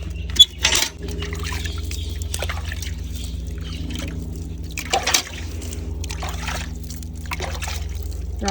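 Water trickles and splashes in short pours onto a papaya plant against a low steady hum, with a few brief louder splashes near the start and middle.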